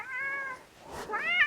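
A pet cat meows twice close by indoors, a long drawn-out tonal meow followed after a brief pause by a rising, more insistent one, with no talk over it.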